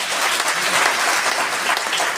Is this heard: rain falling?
no